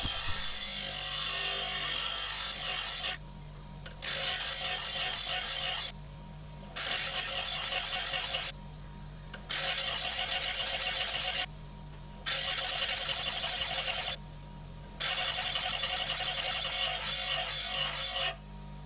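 Chisel and plane blade being ground on a grinder, a steady loud abrasive rasp that runs in bursts of two to three seconds, broken by five short pauses where the blade is lifted away.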